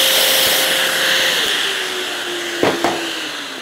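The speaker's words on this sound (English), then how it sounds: "turn the vacuum on, and make my cut" A Festool DF500 Domino joiner cuts into wood with its hose connected to a running vacuum, a steady whining drone of the extractor under a brief sharp cutting burst near the end.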